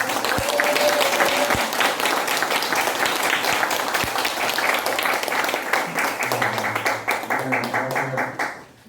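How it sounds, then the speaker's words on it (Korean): Audience applause welcoming a lecturer at a Korean climate justice and system change talk, a loud, dense wash of clapping that holds steady with some voices mixed in, then thins and fades out at the end. "모두 큰 박수로 강사님 소개 부탁드릴게요"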